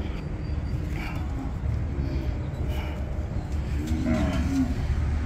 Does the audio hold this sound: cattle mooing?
yes